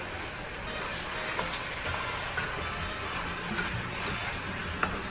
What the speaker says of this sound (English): And then you're going to stir your meat.